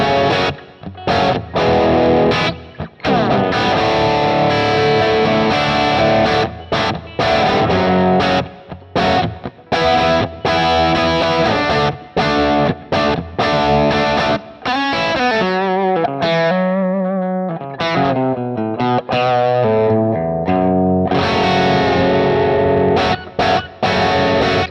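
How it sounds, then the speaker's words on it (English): An electric guitar on a Kemper amp, set to a thicker, woollier tone, plays a long distorted riff of chugging chords and sustained bends, loud and up front, with no speech. "Thicker, bigger, kind of woollier."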